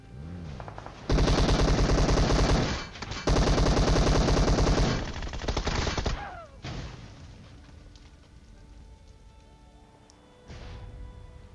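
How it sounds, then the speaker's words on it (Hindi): Rapid automatic gunfire and a loud car blast in the PUBG Mobile battle royale game, with two long sustained bursts of shooting followed by a sharp crash and quieter scattered shots trailing off. "कुछ एनिमी ने गोलियां मार दी और कुछ मैं उस बंदे को मारते हुए मेरी दो चार गोलियां लगी, गाड़ी फट गई"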